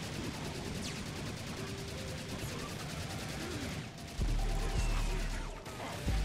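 Rapid automatic gunfire rattles nonstop while enemies are shot down in Serious Sam 2, with heavier booming blasts joining near the end.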